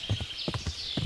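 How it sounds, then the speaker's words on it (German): Horse hooves clip-clop in the medieval role-playing game Kingdom Come: Deliverance, a war horse moving at a quick pace with several distinct, fairly loud hoof strikes in an even rhythm and no talk over them. "Wir sind echt flink mit unserem Pferd, Yenda."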